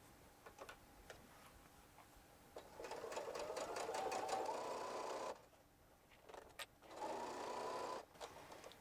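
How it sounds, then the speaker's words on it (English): Sewing machine stitching across a zipper pouch seam, running in two long bursts of rapid, steady mechanical whirring, each preceded by a few brief needle ticks and separated by a short pause. "Drop the presser foot and sew across."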